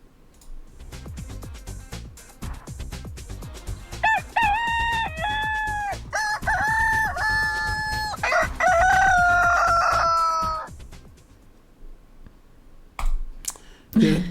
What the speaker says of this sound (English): Let's do rooster time.